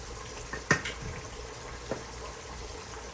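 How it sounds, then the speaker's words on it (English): Steady, close sizzling hiss of pork chops deep frying in hot oil, broken by a sharp clatter near the start and a softer knock later. "the frying has slowed down."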